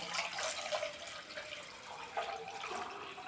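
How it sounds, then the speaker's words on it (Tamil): Water pours and splashes steadily through a strainer into a vessel, a close, trickling rush with small bursts of louder splatter. "இதை ஒரு பாத்திரத்தில் வடிகட்டியை வைத்து வடித்து கொள்ள வேண்டும்"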